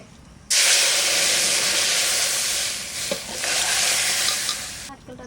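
Bay leaf, dried red chillies and cumin seeds hit hot oil for a dal tempering, bursting into a loud, steady sizzle that holds for several seconds, dips briefly with a small pop, then surges again before cutting off.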